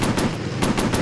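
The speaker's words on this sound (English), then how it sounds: "The machine guns keep overheating." Aircraft machine guns firing in the VR game Warplanes: Battles Over Pacific, a loud continuous rattling burst with sharp repeated cracks standing out every fifth of a second or so.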